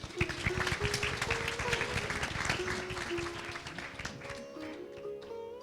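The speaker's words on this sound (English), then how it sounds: "I think he deserves a round of applause, so please" A Sunday service congregation gives a round of applause for the Panditji, a continuous crowd of claps with a sustained tone running beneath, slowly fading toward the end.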